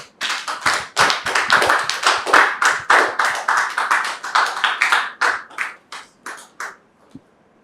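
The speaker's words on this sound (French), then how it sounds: "Merci de recevoir Dame Georgette sous vos applaudissements" A studio audience breaks into dense, vigorous applause that peaks early, holds steady for several seconds, then thins into scattered claps and stops.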